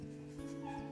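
A dog's faint, thin whimper, steady and high-pitched for under a second, heard quietly at a distance with no talking.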